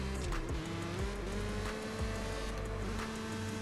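Car engines in the mobile racing game CSR2 drone and shift through quick gear changes, a faint, steady revving with rising pitch sweeps and no talk.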